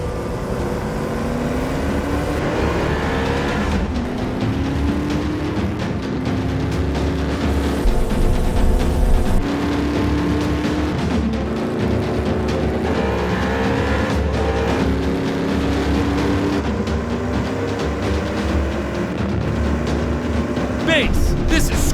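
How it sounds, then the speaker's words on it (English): Red Ford Mustang GT500CR driving fast, a loud continuous engine roar with repeated rising gear pitches and some tire squeal, close throughout, with a voice speaking over it. "It's a red Ford Mustang GT 500CR moving fast and not slowing."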